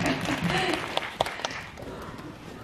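A cinema talk audience applauds with dense, steady clapping, a few sharper claps standing out, while a voice speaks faintly underneath.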